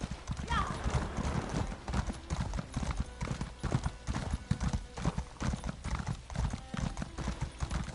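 Hooves of a riding steed in an Elder Scrolls video game, a brisk continuous clip-clop at a quick gait, close and fairly loud with a brief whinny near the start.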